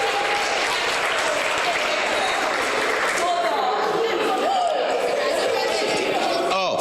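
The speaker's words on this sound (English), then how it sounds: "All right, let's give them a big round of applause." Audience applause fills a public school board meeting, steady and loud clapping from a crowd throughout, with voices and cheers mixed in under it.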